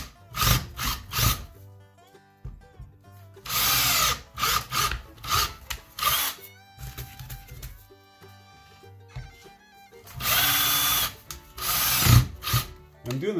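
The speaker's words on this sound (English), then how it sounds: "I'm going to just drill in right beside it." A power drill with a spade bit whirs in repeated short bursts as it bores into wooden trim, with quiet pauses and small clicks between each run.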